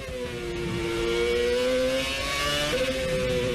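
A Formula 1 car screams past with a high, rising engine whine that holds loud and close, then shifts pitch as a gear change comes, with no talking heard.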